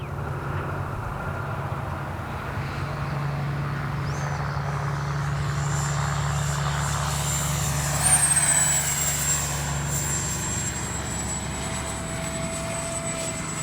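Freewing F-22 70mm RC jet plane in flight, a continuous high electric ducted-fan whine with a steady roar underneath, rising briefly as it passes closer mid-way.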